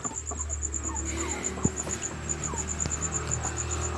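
Soft, low clucking from hens close by, scattered through the clip over a steady high-pitched insect buzz and faint background noise.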